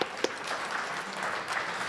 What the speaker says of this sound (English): double applause for Mr. Kliger